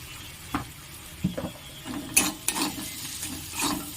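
Salt, chilli powder and turmeric powder are stirred in a pan, giving a few scattered scraping and clinking strokes with light sizzle underneath, close and fairly quiet, without speech.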